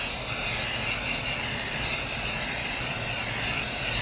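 Rust-oleum auto filler primer hisses out of a spray can in one continuous close, loud spray during a second coat on a Ford Ranger floor pan patch repair.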